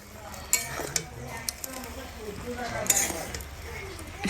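Maggi noodles cooking in a pan as they are stirred make a soft, quiet sizzle broken by scattered spoon clinks and scrapes against the metal.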